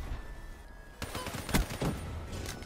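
A few quick hip-fire gunshots in the Black Ops 4 shooter game, a short burst of sharp cracks after a quiet lead-in, fairly faint and close together.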